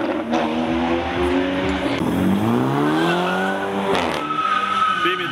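A Porsche Boxster accelerates at a street car gathering in Curitiba, its engine note sweeping steadily upward in pitch over several seconds, loud and close, with crowd noise and a voice in the background.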